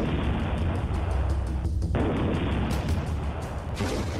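Heavy shelling and explosions in the war in Ukraine, a dense continuous roar of booms and blasts with no clear gaps, loud and saturated throughout.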